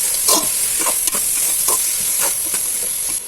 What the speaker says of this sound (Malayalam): എന്നിട്ട് അത് നല്ലപോലെ ഒന്ന് വഴറ്റിയെടുക്കണം നമുക്ക്